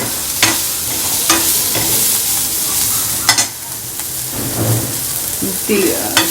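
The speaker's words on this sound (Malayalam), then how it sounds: "എല്ലാ വെജിറ്റബിൾസും വഴറ്റുന്നുണ്ട്. ചുവന്നുള്ളി കുറച്ച് കൂടുതൽ വഴറ്റും." Shallots and mixed vegetables sautéing in a pan for a traditional Kerala theeyal: a steady low sizzle broken by repeated sharp scrapes and clacks of a stirring spoon against the pan, close up, with no talking.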